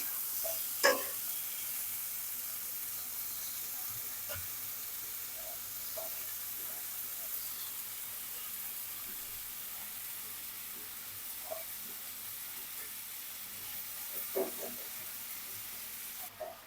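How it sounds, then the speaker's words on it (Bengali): Tomatoes with salt and turmeric frying in a pan for a fish dish with cauliflower: a soft, steady sizzle runs throughout, with a few faint utensil clicks scattered across it and no voices. "এই যে দেখতেছেন টমেটো রান্না হচ্ছে এখন"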